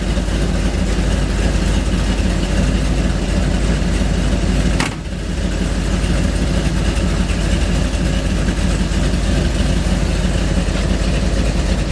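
A 1957 Chevy car engine idles steadily and loud for the whole stretch, with a brief dip and a sharp click near the middle before the low rumble carries on.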